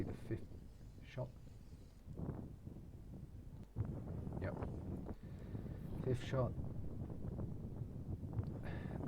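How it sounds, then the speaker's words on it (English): Wind blows on a golf course as a steady, low rumbling buffet against the microphone, with a person talking briefly over it. "It's windy as hell, so that doesn't help."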